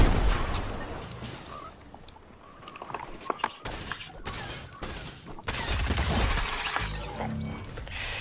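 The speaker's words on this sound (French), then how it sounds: "Mais j'entends encore des tirs." Gunfire in the video game Fortnite: bursts of shots and impacts crackle through a busy mix, with sharp cracks clustered in the middle and heavier blasts near the end.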